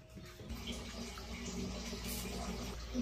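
Water runs steadily from a tap, a faint, continuous splashing hiss that fills the short stretch evenly.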